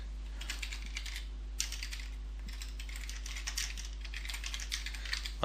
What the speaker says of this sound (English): just type it in like you would any Word document